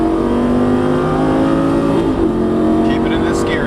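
A Lamborghini Gallardo Superleggera LP570-4 accelerating on a track, its engine climbing in a loud, continuous rising howl, heard from close by with an instructor's voice talking over it.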